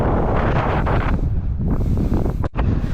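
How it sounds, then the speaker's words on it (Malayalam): Strong wind roars and buffets the microphone in a continuous rough rush, loud and close, with no voices, at an exposed high spot in Idukki, Kerala. "എന്നാ കാറ്റാണെന്നറിയോ ഭയങ്കര കാറ്റാണേ"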